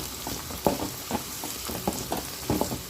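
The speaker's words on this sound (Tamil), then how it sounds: "வெங்காயம் நல்லா வதங்கிக்கிட்டு இருக்கு" Onions frying in a clay pot for an anchovy fish curry, a steady broad sizzle broken by regular louder scraping stirs roughly every half second, close up with no talking.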